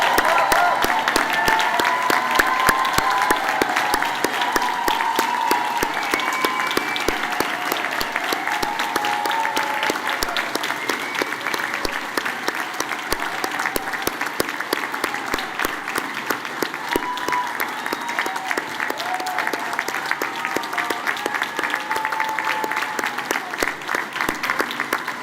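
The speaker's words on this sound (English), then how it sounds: "Please rise and join me in applauding this graduating class for all of their exceptional work and accomplishments." A large standing audience at a Cooper Union commencement applauds the graduating class with dense, continuous clapping, some voices and cheers mixed in throughout the long ovation.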